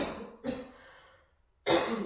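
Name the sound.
coughing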